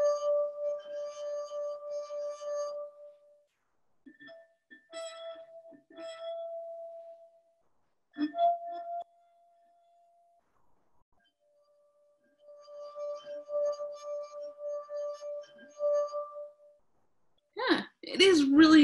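Drinking glasses struck one after another to compare pitch, each ringing out with clear sustained bell-like tones and short gaps of quiet between groups, with a brief voice at the end.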